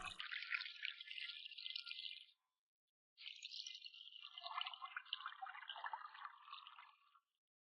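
A small pet turtle spouting water like a fountain, a bright hissing spray of liquid in two bursts, the first about two seconds long, then after a short silence a longer, gurgling stream, close and fairly quiet.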